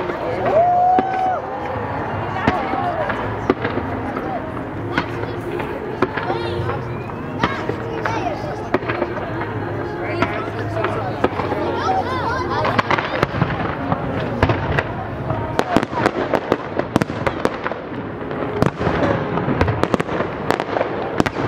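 The Calgary Stampede fireworks finale in July 2023 fires as a dense, continuous barrage of booms and crackles that grows more intense toward the end, while a crowd chatters nearby.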